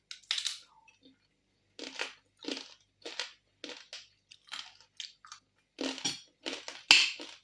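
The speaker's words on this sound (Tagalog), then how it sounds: "Crunchy na crunchy yung pusit, dried" Someone eats crunchy dried squid mukbang-style, close and faint, with a series of short crisp crunching bites in irregular bursts separated by brief pauses.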